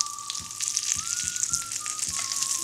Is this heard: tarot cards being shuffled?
no